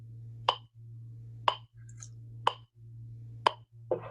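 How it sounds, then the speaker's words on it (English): Metronome set to 60 beats per minute, ticking once a second with four evenly spaced sharp clicks over a low steady hum, fairly faint and alone. "I put the metronome on 60."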